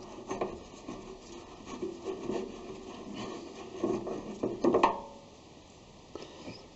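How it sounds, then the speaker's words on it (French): Dirt being brushed out of metal screw threads on a machined part, heard as close, uneven scratchy rubbing strokes in short bursts, with a few sharper scrapes midway. "Il va falloir que je brosse."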